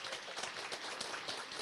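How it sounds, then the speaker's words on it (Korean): Audience applause at a talk on glyconutrients, a steady, dense wash of many hands clapping at moderate distance, continuous and fairly quiet with no voices over it. "여기 운 좋은 여러분들을 위해서 박수 한번 치세요."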